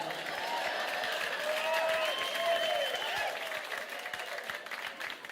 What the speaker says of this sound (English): how about a round of applause for my band tonight